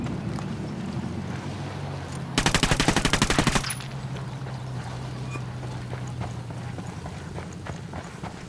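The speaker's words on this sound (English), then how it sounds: "Ready to fire. Ready? Open fire." Automatic gunfire in the video game Ghost Recon Wildlands: a single loud, rapid burst of about a second, set against a steady background drone with faint speech.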